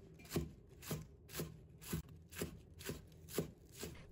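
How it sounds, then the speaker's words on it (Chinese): A knife chops scallion greens on a cutting board in a home kitchen, making about eight evenly spaced, soft thuds close by and alone. "葱叶切成葱花"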